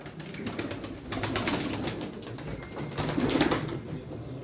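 Pigeons coo and murmur steadily at a pigeon auction, a soft, continuous bed of low bird calls with scattered rustling, fairly faint throughout.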